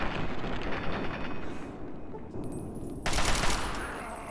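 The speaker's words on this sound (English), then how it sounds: "Let's end it with the assault rifle." Assault rifle gunfire in Fallout 3 rattles in loud, dense automatic bursts that continue nearly unbroken, with a sharper, brighter burst near the end and a voice murmuring faintly beneath.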